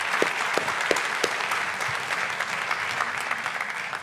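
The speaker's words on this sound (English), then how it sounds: "we should definitely give them a round of applause." Audience applause at a jazz congress keynote session, a steady wash of clapping from a seated crowd with a few sharper nearby claps standing out, moderately loud and without talk throughout.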